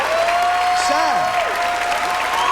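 Comedy club audience applauding during a 1996 stand-up comedy special, a steady wash of clapping with a sustained tone and sliding pitched sounds layered over it.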